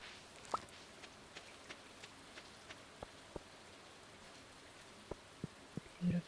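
Steady soft rain from the Stardew Valley farm game, a quiet hiss with scattered light drip ticks over about six seconds and a slightly louder patter near the end.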